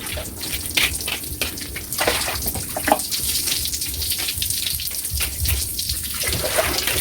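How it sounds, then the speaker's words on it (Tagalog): Tap water runs steadily into a kitchen sink during dishwashing, a continuous close splashing rush with small irregular spatters and no talking. "Ganito ang ginagawa ko sa kusina ko kada binubusan ko sa tubig."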